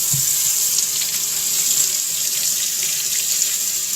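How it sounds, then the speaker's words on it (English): Tap water runs steadily into a kitchen sink while a sweet potato is washed under it, a constant close hiss of flowing water with no pauses and no voices. "I will wash it in the sink"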